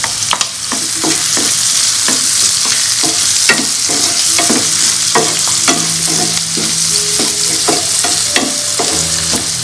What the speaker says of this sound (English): The onions are soft and translucent. I'm now going to add the tomatoes.